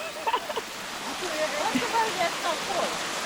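A river flowing through a back yard in Portland, Jamaica gives a steady broadband wash of running water, close and continuous, with a few brief voices and small splashes over it.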